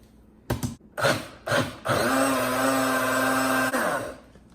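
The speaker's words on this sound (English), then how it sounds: "Now the fun part, we blend." A few short bursts of whirring, then a blender blending cream and condensed milk runs steadily at high speed for about two seconds before spinning down.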